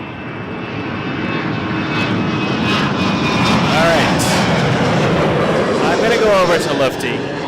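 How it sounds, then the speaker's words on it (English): A WestJet Boeing 737-800 jet heard at Toronto Pearson Airport sends out a loud, sustained engine roar and whine that swells steadily. A radio voice and talk run over the top. "737-800 to Edmonton, WestJet"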